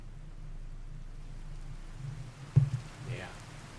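Steady rainfall in a thunderstorm within the modded Fallout 4 game world, a constant soft hiss underpinned by a low rumble, then a sharp thunderclap near the end that rolls and fades.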